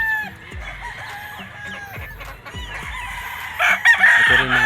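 A rooster crows at a gamefowl farm, a close, loud cock-a-doodle-doo followed by clucking hens and other fowl calling nearby, with another crow rising toward the end.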